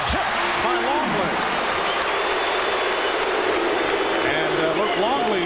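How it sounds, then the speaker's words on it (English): Crowd noise fills a basketball arena during an April 1997 NBA game between the Knicks and Bulls, a steady roar with rising chant-like swells throughout, while a commentator talks over it. "Luke Longley hearing the chants from the crowd"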